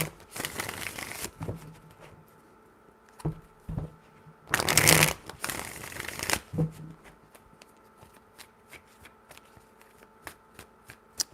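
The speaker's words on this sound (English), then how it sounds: "Three shuffles." Tarot cards are shuffled by hand in a few quick riffling bursts, each a crisp papery flutter, with soft taps and handling sounds between them in a quiet room.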